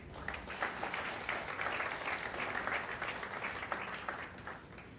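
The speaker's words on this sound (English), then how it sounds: "I think Plan India deserves a huge round of applause" An audience applauds at a Plan India event, dense steady clapping that carries on throughout at a moderate distance, fairly quiet overall.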